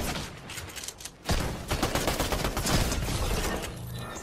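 Rapid bursts of automatic gunfire from a PS5 first-person shooter game, loud and dense, with a brief lull before a sustained crackling barrage.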